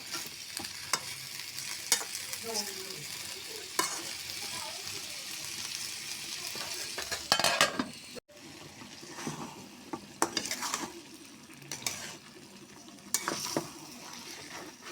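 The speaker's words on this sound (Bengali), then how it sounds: "এটাকে আর একটু কষিয়ে তারপরে জল অ্যাড করে দেবো" Potato, tomato and pea curry for gulsha fish being sautéed in a pan, with steady frying sizzle and repeated stirring scrapes throughout, a brief break midway, and some talk faintly underneath.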